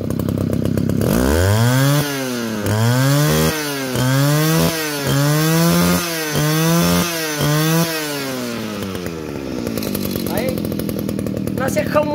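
A new Shibaura brush cutter with a small 36 cc engine is throttled up and down repeatedly, its two-stroke whine rising and falling in about seven sharp revving bursts before dropping back to a rough idle, loud and close.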